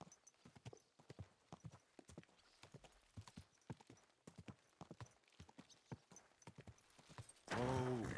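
Horse hooves clip-clop in a video game, a steady rhythmic run of close, crisp hoof strikes that ends in a brief loud neigh.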